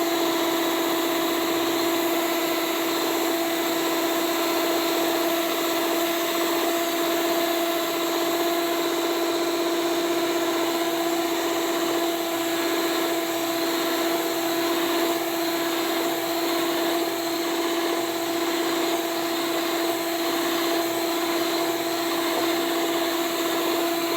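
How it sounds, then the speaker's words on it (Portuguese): Stand mixer beating cake frosting tinted with intense pink gel colouring, a loud continuous motor whine with a steady hum that runs unbroken throughout, close up and with no one talking. "E simplesmente ligar a batedeira que ela fará o trabalho braçal por nós."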